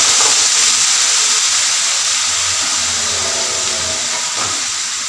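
Mutton broth poured into a hot pan for mutton varuval, giving a loud, close, steady sizzling hiss that eases slightly as it settles.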